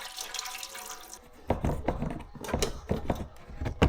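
Fluid draining from a car gearbox with fault codes P173500 and P173600, pouring and splashing unevenly like a small cascade, with intermittent louder gushes and faint clinks.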